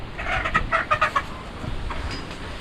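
A chicken clucks in a short burst of several quick calls, fairly close and clear over faint background noise, with no talking.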